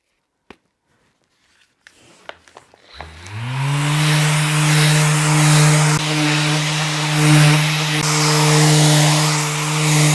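After a few knocks and clatters, a power sander fitted with 3000-grit paper starts up on a resin river table top and runs as a loud, steady whine that wavers slightly, with no talking.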